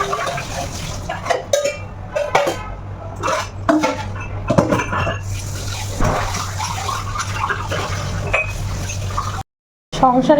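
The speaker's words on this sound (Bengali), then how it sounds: "থাক কটা বাসন আছে ধুয়ে নিয়ে আগে" Dishes and utensils washed under running water, with metal pots and cutlery clinking and scraping close by, a steady splash of water beneath, and a brief dropout near the end.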